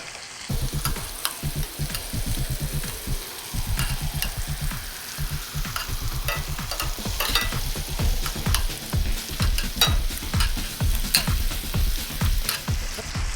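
Shrimp sizzle in a hot pan of sauce for shrimp tacos, with steady frying crackle and repeated scraping stirs of a utensil across the pan, close and continuous with no talk.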